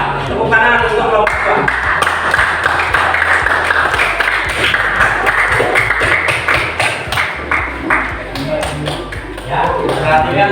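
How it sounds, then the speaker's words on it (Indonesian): Classroom applause for a student group, steady dense clapping from many hands throughout, loud and close, with tapping and thumps mixed in. "tepuk tangan untuk kelompok"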